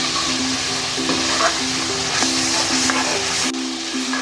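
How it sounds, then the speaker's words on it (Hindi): Spice masala cooking in ghee for a potato and yogurt dish sizzles and crackles up close, with periodic stirring scrapes against the pan, steady and loud, then quieting slightly near the end. "ये मसाला हमारा माशाल्लाह से भुन चुका है। मसाले ने देखें घी छोड़ दिया है अच्छी तरह।"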